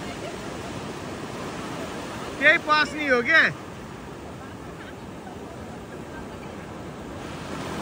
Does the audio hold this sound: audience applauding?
no